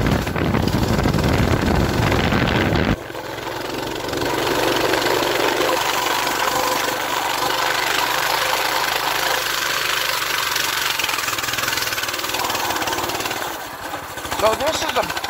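A stock Coleman BT200X mini bike's small engine revs and drones loudly while riding near a lake, with heavy wind buffeting the microphone and a brief drop in the engine note partway through.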